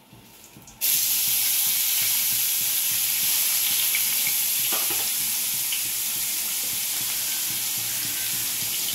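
Onions drop into a hot pan and burst into a loud, sudden sizzle that settles into a steady close hiss with faint stirring crackles throughout.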